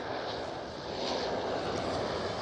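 A KLM Boeing 737 passes at Amsterdam Schiphol, a steady broadband jet roar that holds level and fairly distant for a couple of seconds without voices.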